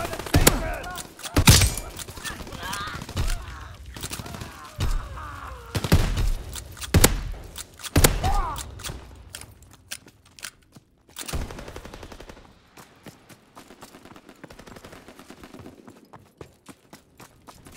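Gunfire crackles in a Call of Duty WWII multiplayer match, with loud bursts of rapid shots and single cracks in the first half, thinning to sparser distant shots later, while game voices call out over it.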